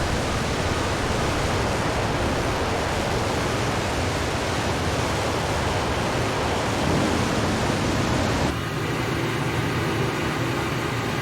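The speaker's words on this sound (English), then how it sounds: "I don't know why the cockpit is so darn noisy." Cockpit noise of an AV-8B Harrier II in Microsoft Flight Simulator, a loud, steady broadband rush of engine and air noise that drops slightly in level and shifts in tone near the end, with no voices.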